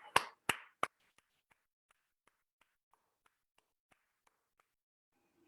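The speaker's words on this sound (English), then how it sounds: "Now clap." Three sharp hand claps close by, then a long run of faint, evenly spaced soft ticks in a quiet room during a guided centering exercise.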